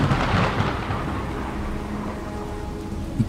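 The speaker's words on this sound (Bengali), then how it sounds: "বাইরে প্রচন্ড জোরে একটা বাজ পড়ল।" A heavy thunderclap rolls over a village during a storm, loud and dense from the start, then fading into a long low rumble mixed with steady rain, with no talking.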